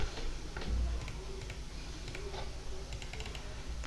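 A few faint computer keystrokes tap softly during a Control C copy shortcut, close but quiet against a steady background hum.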